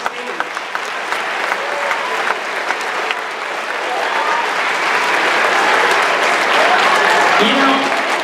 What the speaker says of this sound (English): how about a big round of applause for our fourth graders getting on stage?